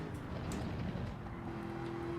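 A race car's engine drones steadily in the Gran Turismo 7 racing game, a continuous humming roar with a sustained tone and a faint whoosh of motion, heard alone without speech.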